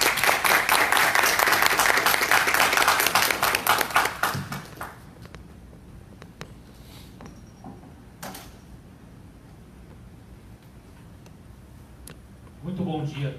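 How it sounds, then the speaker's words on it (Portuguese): Audience applause for the speakers at a lecture on Roberto Campos: loud, dense clapping for about four seconds, then fading into a quiet room with scattered shuffles and thumps before a brief noise near the end. "eu peço uma salva de palmas para os nossos palestrantes"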